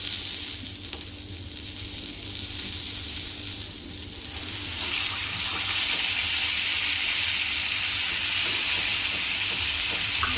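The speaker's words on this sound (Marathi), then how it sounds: "तव्यावर चांगलं आपण पनीर फ्राय करून घ्यायचं आहे" Steady sizzling of paneer tikka sticks frying in hot oil on a griddle, close by, growing louder and more intense partway through.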